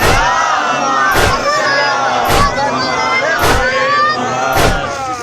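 A large crowd at a Muharram procession loudly chants salawat in unison, bursts of voices repeating at regular intervals over a steady background roar of many people.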